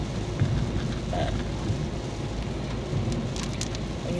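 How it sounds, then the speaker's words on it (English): Steady rain drums on a car during a drive, a dense, constant patter with a low rumble and no voices. "I hate driving in the rain."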